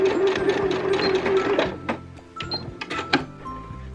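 A sewing machine stitches patchwork Christmas stocking pieces together with a quarter-inch seam, running in a steady close mechanical whir that then breaks into shorter bursts and clicks.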